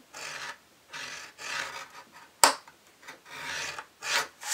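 A blade scores a line in box material with repeated rasping strokes, about six in a row, close and fairly quiet, with a brief sharp tap in the middle.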